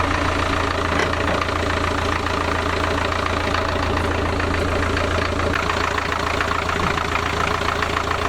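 Land Rover diesel engine idling with a slightly loose timing chain, a steady close rumble with a faint repetitive rattle running throughout.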